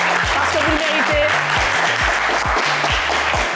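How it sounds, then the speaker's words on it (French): Loud, sustained applause from a French game show studio audience for a contestant, dense and continuous with a rhythmic musical beat running underneath. "On va vous applaudir très très très très fort."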